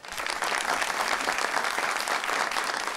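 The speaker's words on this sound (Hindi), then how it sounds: "तालियां" Dense, steady applause from a television talk-show studio audience, filling the whole stretch at even loudness with no voices over it.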